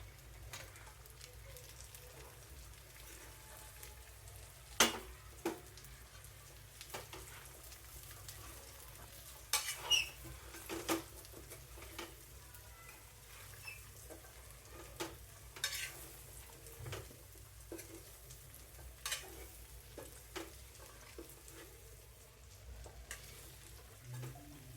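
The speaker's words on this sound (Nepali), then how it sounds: "अब अघि हामीले फ्राइड गरेको चिकनहरू सबैले राखेर मजाले चलाउने" Fried chicken pieces being stirred with ground spices in a pan for chicken achar, a faint low sizzle broken by scattered scraping and clinking strokes of the spoon.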